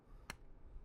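Anker Soundcore A20i earbuds case flipped open with one hand, giving a single short, faint click against quiet room background.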